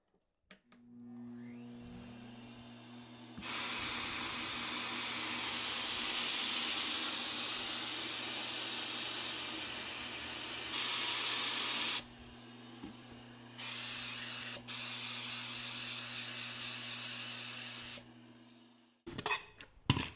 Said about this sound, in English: spray the rest of that into this container, and then I'll spray a little air through the gun